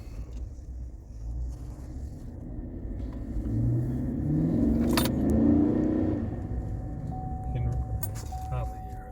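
A pickup truck fitted with a Walkingshaw full exhaust system accelerates up a road, a low rumbling engine note rising and swelling in the middle before easing off, with a person talking over it.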